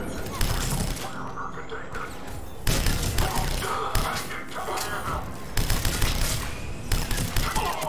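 Sustained video-game gunfire from Mass Effect 3 at a military checkpoint, with repeated loud bursts and impacts running throughout and dense battle noise under it.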